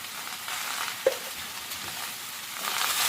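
Bottle gourd curry seasoned with rock salt and turmeric is stirred in a pan on the stove, giving a steady soft sizzling hiss throughout, with a single sharp clink of the utensil early on.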